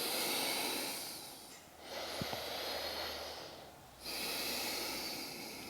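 Slow, audible breaths during a yoga flow: a long exhale, a pause, then another drawn breath, close and soft against faint background hiss.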